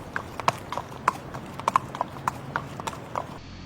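Horse hooves clip-clop in a quick regular rhythm, a dozen or so sharp clicks that sound close and fairly loud over a faint background.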